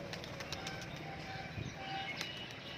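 A Murshidabadi Giribaz pigeon lands nearby with a brief flutter of wings and gives soft, low cooing over light background noise outdoors.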